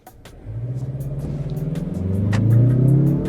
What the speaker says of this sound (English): It's just a 4-cylinder, but you hear a little bit of the turbo.